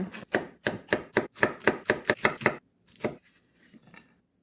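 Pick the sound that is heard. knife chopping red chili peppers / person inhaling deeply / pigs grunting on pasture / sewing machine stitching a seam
knife chopping red chili peppers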